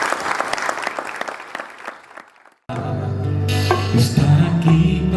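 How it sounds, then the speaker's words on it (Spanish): Church congregation applauding at a start-of-year worship service, a burst of clapping that fades to silence before worship music with band instruments starts loudly. "Entonces, de verdad un aplauso para ellos."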